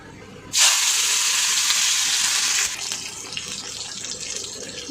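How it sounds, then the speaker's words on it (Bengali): Tomato drops into hot oil in a kadai already spiced with dried red chilli and bay leaf for an okra dish. It erupts in an abrupt, loud, close sizzle that holds for about two seconds, then settles into a softer, steady crackle. "এবার দিয়ে দেবো টমেটো"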